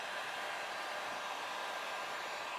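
A heat tool blows hot air across a car hood while a vinyl stamp is squeegeed down, producing a steady, close, hair-dryer-like rushing whoosh that runs unbroken throughout.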